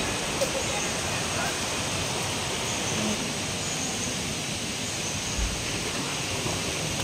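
River water rushing at Bato Spring in San Pablo, a loud, steady broadband wash of flowing water filling the whole stretch, with faint voices mixed in.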